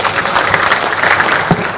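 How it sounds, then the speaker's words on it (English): An audience at an investment conference in Kisumu applauds, steady dense clapping that fills the room at moderate loudness, with no voices over it. "Could we again give them a round of applause?"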